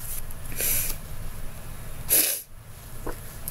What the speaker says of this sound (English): I'm sorry that I'm sniffling